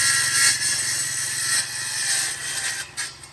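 Wood pieces being cut with a saw during outdoor woodworking, a steady buzzing rasp with a low motor hum running throughout, fairly close and continuous, no voices.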